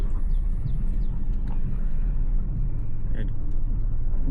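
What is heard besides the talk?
Chevy Equinox driving on a test drive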